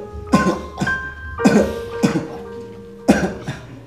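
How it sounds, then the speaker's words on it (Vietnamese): An elderly man coughing at home, a series of about five or six hoarse coughs in short bursts, close and moderately loud, with faint murmuring in the background. "có bị cảm không mà sao ho với chú?"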